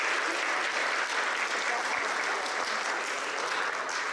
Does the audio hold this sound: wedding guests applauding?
yes